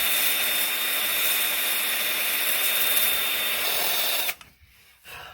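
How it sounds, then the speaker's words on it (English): A power tool scrapes white plaster Drylock off a crumbling concrete block with a loud, continuous grinding whir, close up, that stops abruptly near the end and leaves faint knocks. "scrape out much of this white plaster dry lock as I can so that the hydraulic cement has something to really bond to."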